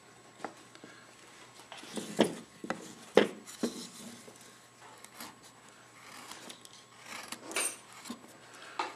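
A carving gouge scoops through wood on a pitcher carving, giving soft scraping, rasping strokes in an irregular rhythm, close and fairly quiet.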